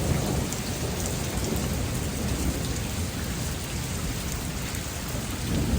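Heavy rain pours down in a dense, steady roar on a rainy day, with low rumbling underneath that suggests thunder; no voices are heard.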